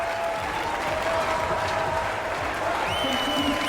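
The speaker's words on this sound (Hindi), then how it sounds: "दर्शकों द्वारा जोरदार तालियों से उनका स्वागत।" Stadium crowd applause welcoming the Indian contingent at the Commonwealth Games in a film scene, a dense, sustained roar of clapping with a faint cheer and a brief tonal sound near the end.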